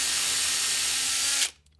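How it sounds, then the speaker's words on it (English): A drill runs steadily while boring a tiny pilot hole, a close, continuous high whir lasting over a second before cutting off abruptly. "you drill a tiny hole first, trying to keep it vertical"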